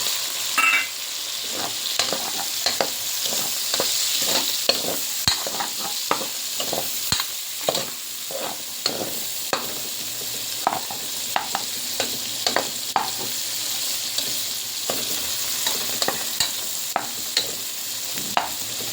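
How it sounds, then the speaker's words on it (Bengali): Shrimp frying in a pan with dried and green chilies, a constant hiss of hot oil broken by frequent sharp stirring scrapes and taps, close and even. "সব কিছু ভাজি করে নিচ্ছি। এখন দিয়ে দিচ্ছে কাঁচামরিচ"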